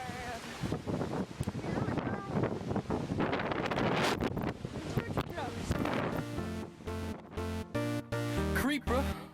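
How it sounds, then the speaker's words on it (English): Strong gusts buffet the microphone on a windy shore with big surf, roaring continuously and loudly, while a person talks through the din. "Sorry about the wind in this video."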